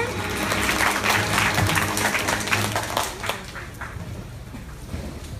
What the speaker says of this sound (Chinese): 大家是不是再给我们的议员一个热情的掌声